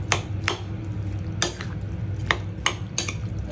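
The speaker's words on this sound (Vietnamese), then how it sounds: "Rồi bắt đầu trộn đều với nhau nè." Seasoned pork being mixed with cooking oil in a bowl, a wet squelchy churn broken by sharp clinks of a utensil against the bowl at irregular intervals, close up with no talking.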